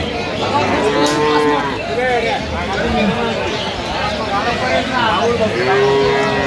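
Cows and calves at the Aftabganj cattle market in Bangladesh moo repeatedly and loudly, with several overlapping calls spread across the whole stretch over a busy background of market crowd babble.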